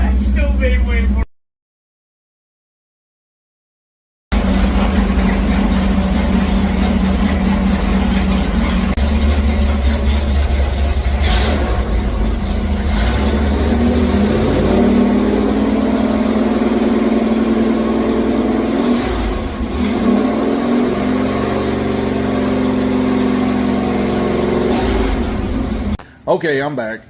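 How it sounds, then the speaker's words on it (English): A Chevrolet small-block 350 V8 runs loud and steady on a dyno, holding a throaty drone with slight rises in revs, cut by a short silence near the start. "the 350 that you just watched run on the dyno"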